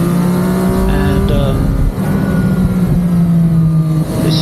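A Ducati Multistrada V4 S engine roars and throbs steadily, loud and close, with a deep rumbling tone, rising and falling slightly under way, with faint talk mixed in.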